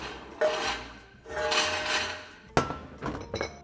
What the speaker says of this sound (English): get the cast iron pan, move it onto the stovetop